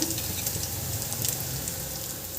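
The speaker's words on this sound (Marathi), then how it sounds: "इथे आपण हे दोन्ही बाजू छान शॅलो फ्राय करून घेतलेले आहे" Ragda patties shallow frying in a pan, a steady soft sizzle and crackle of hot oil running throughout without pause, close and even in level.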